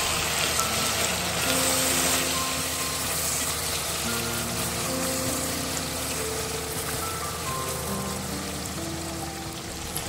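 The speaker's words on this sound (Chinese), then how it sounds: "翻炒肉块，" Pork belly chunks stir-fried in Lee Kum Kee soy sauce for red braised pork with wild rice stems, giving a continuous soft sizzle over a long stretch with faint tonal sounds in the background.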